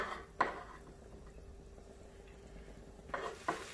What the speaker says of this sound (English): Adding 2 cloves of garlic to the pot.